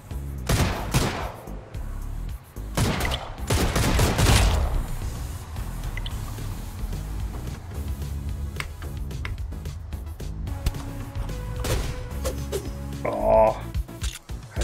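Pistol fire in the Streets of Rogue 2 video game comes as clusters of sharp shots mixed with other game effects, while someone talks over them.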